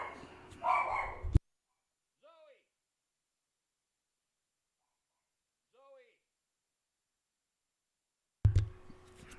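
A small 16-pound white dog gives two faint, distant barks several seconds apart in near silence, with voices talking at the start and end.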